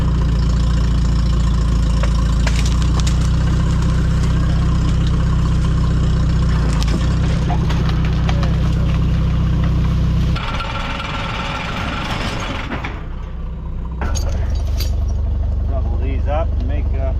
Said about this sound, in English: so I'm using the tractor and trying to push it.